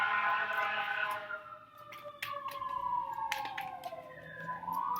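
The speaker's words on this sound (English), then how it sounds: "there's so many sirens right now" Wailing sirens rise and fall in pitch, several overlapping, moderately loud and somewhat distant, with street noise underneath on Hollywood Boulevard.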